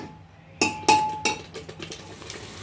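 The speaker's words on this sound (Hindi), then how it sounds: "अब इन मसालों को फिर से अच्छे से भून लीजिए" Spices being fried and stirred in a pan while making a soya and potato masala, with a few sharp clinks of a spoon against the pan and then softer scraping and stirring over a faint sizzle.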